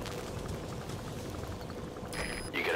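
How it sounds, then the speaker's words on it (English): Rain in the Metal Gear Solid V video game, a soft steady patter of drops that rises slightly near the end, with brief electronic tones and no talking. "Caution. Rain approaching."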